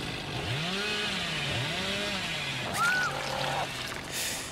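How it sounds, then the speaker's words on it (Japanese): The Hillbilly's chainsaw in the Dead by Daylight video game whines steadily, its pitch sweeping up and down in repeated revving arcs over a continuous mechanical drone, with a brief higher burst near the end. "もうチェーンソー攻撃だけに"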